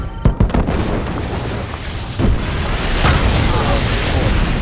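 A nuclear missile detonates in Red Alert 2, a loud, deep boom with a rumbling, eruptive roar that swells and sustains after a few sharp pops, near and heavy.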